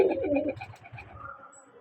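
Domestic pigeons of the Madrasi and Giribaj breeds coo in a close, throaty burst lasting about half a second, followed by quieter low murmuring and faint rustling.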